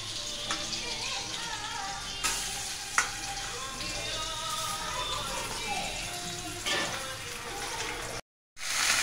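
About 750 grams of chicken fries in a pan at home, a soft steady sizzle running throughout with a few sharp clinks and scrapes of stirring, fairly quiet and with no talking.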